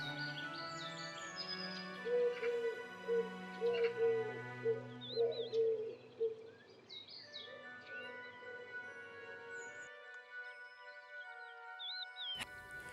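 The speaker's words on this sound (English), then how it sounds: "I found some bee-eaters here." Bee-eaters calling in open country at Ajban, UAE, heard as a run of soft, rolling trills and chirps at moderate distance, strongest early on, with other birds and faint background noise, then a quieter stretch.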